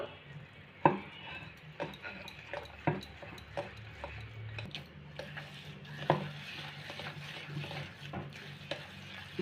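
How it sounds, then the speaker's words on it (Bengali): Oil, suji (semolina) and cake batter mixed by hand in a bowl for an eggless semolina cake, heard as irregular soft squelches and sharp clicks against the bowl, close and moderately loud, with no talking. "এবার আমি এটাকে ঘেটে নেবো সবগুলোকে ভালো করে মিক্সড করে নেবো"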